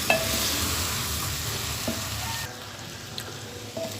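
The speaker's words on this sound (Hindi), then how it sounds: "1-2 मिनट मैंने चम्मच चला दिया भिंडियों में" Okra stir-fries with spices and lemon as a spoon scrapes and stirs through the pan, a close sizzle that drops quieter midway with a few clinks.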